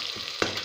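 Onions fry in a pan with a steady, close hiss of sizzling oil and a brief stirring scrape partway through.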